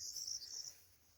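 Faint, steady chirping of crickets high and thin in a backyard garden with trees, with a bird call briefly mixed in, fading toward the end; no voices.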